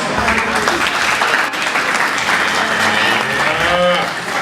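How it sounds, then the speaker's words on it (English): Steady crowd applause fills a county FFA alumni livestock show arena as an exhibitor finishes the class. The clapping stays fairly loud and continuous throughout. "Let's give her a round of applause."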